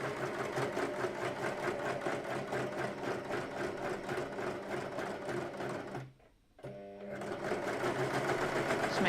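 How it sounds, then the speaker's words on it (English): An overlocker sewing machine runs at a steady, rapid mechanical chatter, pauses briefly, then starts up again, with a person talking over it. "if you go nice and slow on the overlocker"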